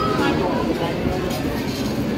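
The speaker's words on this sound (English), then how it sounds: "the entrance to the ghost train, which is a dark ride" Continuous rumbling and clattering of the ghost train dark ride at the Coral Island arcade in Blackpool, with loud, dense arcade noise throughout.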